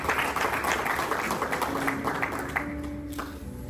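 Guests at a quinceañera reception applaud steadily in a moderately loud, roomy space, with faint music tones beneath the clapping.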